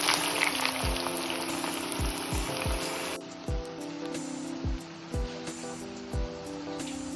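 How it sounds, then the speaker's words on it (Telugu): Four long-sliced onions deep frying in oil in a kadai, a steady hiss and crackle of bubbling oil, loud at first then softer, with regular soft background music notes. "డీప్ ఫ్రై చేసుకోవాలి"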